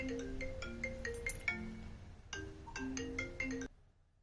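A phone ringtone from an incoming call plays a bright, repeating melodic pattern in two bursts, fairly quiet and alone, then cuts off abruptly.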